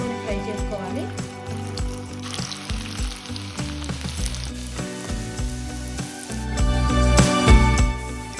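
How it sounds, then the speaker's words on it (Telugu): Potato snacks frying in hot oil, a steady close sizzle with bubbling crackle that swells louder near the end, running under a talking voice throughout. "మరి ఒకటి వేసుకొని ఫ్రై చేసుకోవాలి."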